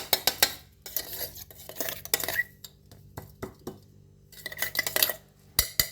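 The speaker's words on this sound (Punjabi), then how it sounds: "ਹੁਣ ਆਪਾਂ ਇਹ ਵਿੱਚ ਮਿਕਸ ਕਰ ਲਾਂਗੇ" Ground sesame being stirred into melted jaggery in a pan, a series of close scraping and clinking strokes of a spoon against metal in irregular bursts with short pauses, no talk.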